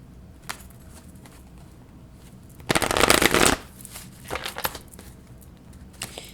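A deck of Wisdom of the Oracle cards is shuffled, with faint riffling at first, then a loud burst of papery card shuffling about a second long, followed by softer handling and flicking.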